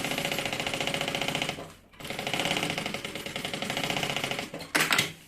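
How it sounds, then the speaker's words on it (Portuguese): Sewing machine stitching close to the edge to join a bag's lining to its main fabric, a steady rapid mechanical run that pauses briefly near the middle, resumes, and ends with a short louder burst. "Então a gente vai fazer uma costura bem na beiradinha, só para segurar os dois juntos."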